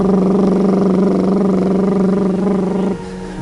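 Continuous buzzing lip trill with breath pushed out through loose lips in imitation of a scooter or motorbike engine, steady and close for about three seconds before dropping off.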